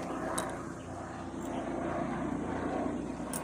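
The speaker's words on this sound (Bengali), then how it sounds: "হ্যাঁ হেলিকপ্টার এসে গেছে," A helicopter flies overhead above a home, heard as a faint, distant droning engine hum that stays steady throughout, with no clear speech.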